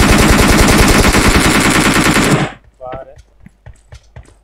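Rapid automatic gunfire from a battle royale shooter game blasts loud and continuous for over two seconds, then cuts to sparse clicks and faint game sounds.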